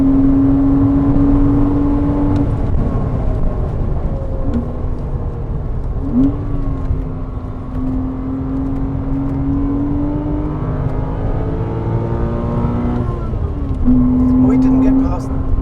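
A Porsche Cayman 987 engine drones steadily in-car while lapping Bedford Autodrome, pitch rising through gears with brief dips at shifts, loud and continuous, with a BMW M5 F10 in pursuit and occasional talk over it.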